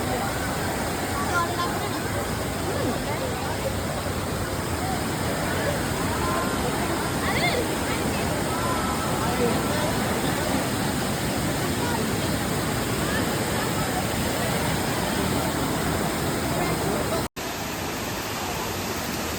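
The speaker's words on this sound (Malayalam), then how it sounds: "മരത്തിൻ്റെയൊക്കെ ഇടയിലാണ് വാട്ടർഫോൾ ഇങ്ങനെ ഒഴുകിപ്പോകുന്നത്" Steady, loud rush of the Areekkal waterfall in Ernakulam, Kerala, pouring continuously among trees, a dense hiss of falling water close by, with faint voices blended in.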